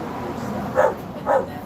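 Two sharp barks come from a red-nosed pit bull at an open car window, nearby and evenly spaced, over a steady low background noise.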